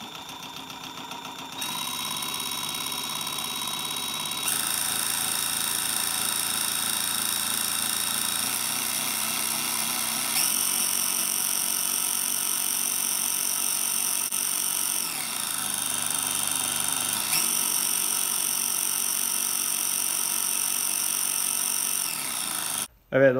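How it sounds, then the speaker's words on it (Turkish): An old drill motor spins as a homemade generator, giving a steady, loud electric whine that shifts pitch several times as the speed changes, then cuts off abruptly at the end. "gördüğünüz eski bir matkabın motoru ve eski bir matkabın tetik tertibatı arkadaşlar bu"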